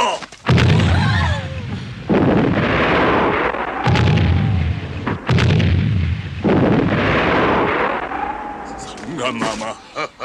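Cannon volley in a historical Korean film, with four heavy booming blasts at regular intervals, each rolling out into a long rumbling decay, and faint voices in between.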